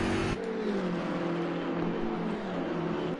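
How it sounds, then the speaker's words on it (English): A BMW GT3 racing car engine in a video game race at Monza, a low grunting drone with gently wavering pitch after a brief higher note at the start, steady and close, no talk. "a very low grunt to the BMW GT3 as well"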